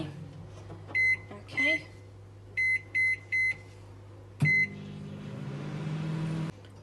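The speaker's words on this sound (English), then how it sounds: "we're going to pop it in the microwave for 30 seconds on high." A microwave oven set on high for 30 seconds to warm fudge mixture gets several short keypad beeps, then a longer beep as it starts and a steady low hum; one brief spoken word.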